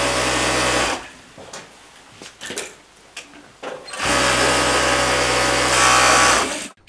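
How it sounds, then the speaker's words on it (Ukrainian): Sewing machines stitching thermal underwear for soldiers run in loud, steady bursts, stop for a few seconds of quieter workshop handling noise, then start up again for a long whirring run. "Між уроками працюємо за швейними машинами."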